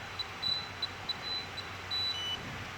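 A Bosch intruder alarm panel sounds its entry-delay warning: a run of short, thin electronic beeps in an irregular pattern, some clipped and some longer, over quiet room hum.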